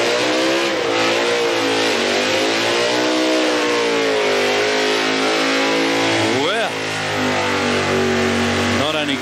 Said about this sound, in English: That thing must have a lot of horsepower to turn the tyres so quickly, just like that.